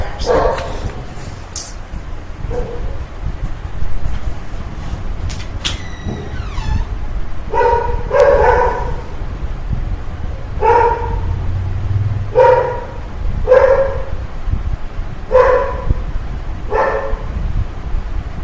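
A dog barks repeatedly in a steady series of sharp, fairly close barks over a noisy indoor background.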